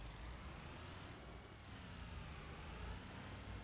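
Engine of a King Ranch pickup truck in Farming Simulator 25, a steady, even drone with a faint high whine that rises and falls slightly, continuous and alone without talking.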